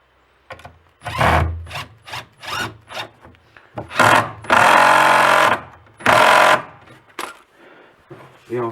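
Screws are driven into wood while a table saw cabinet is assembled, in a string of loud, close bursts from a power driver. Several grind on for a second or more and others are short, with scraping wood handling between them and no talking.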